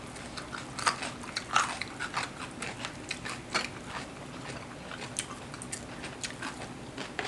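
Close, crunchy chewing and biting of crispy pork eaten with spicy som tam, with repeated irregular crunches and mouth sounds and no talk.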